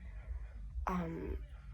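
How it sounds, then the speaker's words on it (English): A sick baby boy, teething four teeth at once and feverish, lets out a single short, harsh cough up close, standing out from a steady low background hum. "He has a really bad cough."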